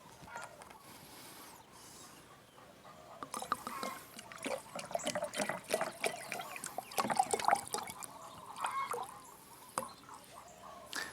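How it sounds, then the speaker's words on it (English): Vodka is poured into a jar that is already two-thirds full of Angelica for Korean Natural Farming OHN, a soft liquid trickle and gurgle of varying strength that runs for several seconds at close range. "That's now ready to get 1/3 remaining full of vodka."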